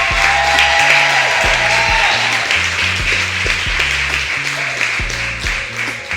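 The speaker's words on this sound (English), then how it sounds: "can we please get a hand clap to Jenica Anderson?" An awards ceremony audience applauds steadily over loud thumping background music, the clapping fading slightly toward the end.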